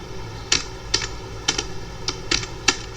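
Light clicking of keys on a computer keyboard, a few quick taps in small clusters, close and fairly quiet against a faint steady room hum.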